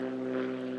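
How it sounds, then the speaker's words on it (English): A propeller airplane drones at an airport where planes keep taking off and landing, its engine a steady, close buzzing hum over a brief stretch with no talk. "There's a constant stream of planes taking off and landing."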